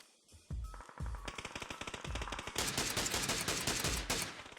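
Automatic gunfire from a weapon in the video game PUBG: long, rapid bursts of loud, evenly spaced shots that run almost without pause, with no voices.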